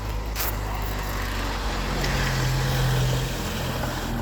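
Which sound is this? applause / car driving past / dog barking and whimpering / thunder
car driving past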